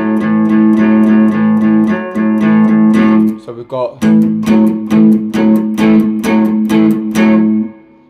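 Electric guitar riff in A, the 5th and 4th strings struck together in a chugging rhythm of repeated strums, loud and close, with a short pause where a voice briefly speaks.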